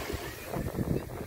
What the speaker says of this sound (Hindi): ये इस किनारे पे यहाँ पे लहरें आ रही हैं